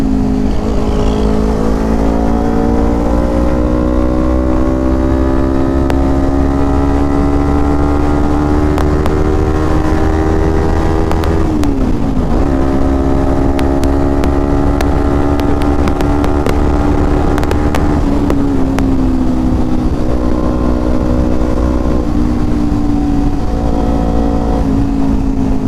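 Motorcycle engine fitted with a DX Generation aftermarket exhaust, running steadily and loud throughout with rising and falling revs, a couple of brief pitch dips around gear changes, and a smooth continuous drone with no talking.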